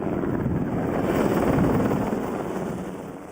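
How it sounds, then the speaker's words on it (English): A firefighting helicopter dumps water on flames at the Hughes fire northwest of Los Angeles, its rotor and engine giving a steady, loud, broadband roar with low thudding that fades slightly toward the end. "A helicopter dumps water on flames from the Hughes fire."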